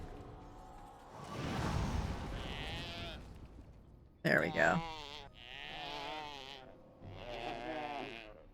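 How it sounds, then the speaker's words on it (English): Sheep in the video game Dragon Age: Origins give several wavering bleats in the second half, following a whooshing sound, while a person talks over the opening. "Do they sound like sheep?"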